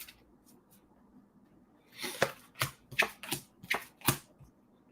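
Tarot cards being shuffled and drawn for a reading, heard as a quiet stretch then six or so short, crisp riffling bursts in quick succession, close and alone without talk.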